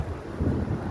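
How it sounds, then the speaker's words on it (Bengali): Heavy rain with rumbling thunder in Taif, Saudi Arabia, a deep low roll swelling under steady downpour for a brief moment, no voices. "বৃষ্টি এতটা বিকটিয়া"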